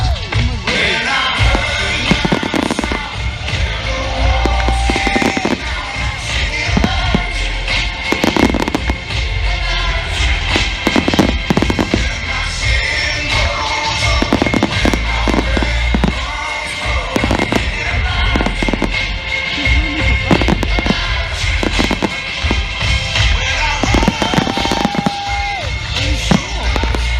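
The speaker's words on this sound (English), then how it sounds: "Are you enjoying the fireworks?" Bonfire night fireworks burst over Crystal Palace Park in London, a loud, irregular barrage of booming explosions and crackles, some whistling rockets, with faint crowd noise and a voice beneath.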